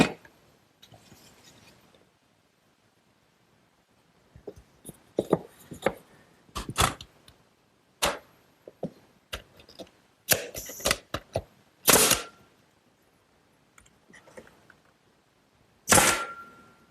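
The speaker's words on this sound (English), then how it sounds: "I'll nail them in place with some 6-penny galvanized finish nails" Six-penny galvanized finish nails being hammered into wooden slats of a garden swing platform, a series of sharp irregular knocks and taps with quiet gaps, close and alone.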